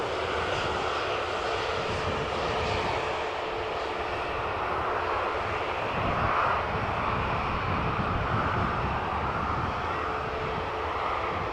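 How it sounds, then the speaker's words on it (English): KLM Boeing 737-800 arriving at Amsterdam Schiphol Airport, a sustained jet-engine roar with a rushing, hissing texture, steady and fairly loud, swelling slightly midway. "From the right we have another incoming Boeing 737-800 from KLM that has just arrived from Finland."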